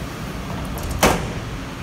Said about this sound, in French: On va fermer les portes.